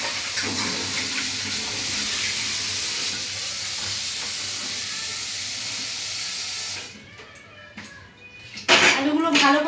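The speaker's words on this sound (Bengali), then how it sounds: "আলুগুলো ভালো করে ধুয়ে নিয়েছি" Potatoes are rinsed under a running tap in a home kitchen, giving a steady hissing splash of water that cuts off partway through, followed by a few clinks of vessels and brief noises.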